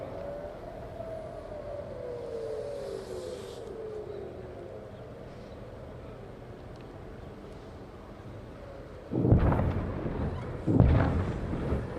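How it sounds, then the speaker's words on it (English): Air raid sirens in Jerusalem wail faintly in the distance, one long slow rising and falling tone under wind and hiss, then two sharp thuds near the end. "I believe we can hear some of the sirens going off in the background there."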